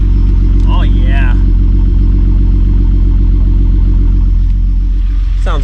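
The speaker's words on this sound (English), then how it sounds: "So the car's idling really well." A turbocharged VR6 in an MK3 wagon idles with a steady, deep, even rumble up close, with slightly loud lifters, while brief vocal sounds come in near the start and end.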